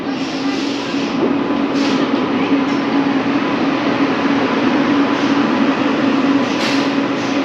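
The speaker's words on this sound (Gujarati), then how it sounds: "આપણી ટ્રેન આવી ગઈ છે" The Yoga Express train arrives at a station, rumbling steadily past at close range with a low continuous drone and occasional hissing bursts, no one speaking.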